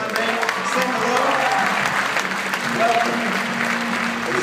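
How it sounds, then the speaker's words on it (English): A church congregation claps hands during a Sunday service, steady dense applause from a crowd filling the room, with voices mixed in underneath. "while you are clapping your hands"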